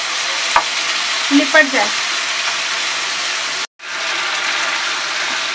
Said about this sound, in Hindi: स्लो टू मीडियम फ्लेम पर हम इसको कुक करेंगे और इसे चम्मच चलाते रहें